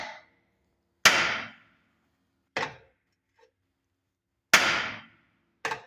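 Hammer blows on a steel motor mount for a 1958 Ford Fairlane: a few sharp, ringing metallic strikes spaced irregularly with quiet gaps between, close and loud.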